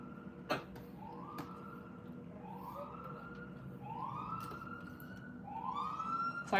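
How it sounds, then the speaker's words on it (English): Emergency vehicle sirens wailing in repeated rising sweeps, moderately distant and steady, with a sharp click near the start and no talk over them. "Sorry about the sirens"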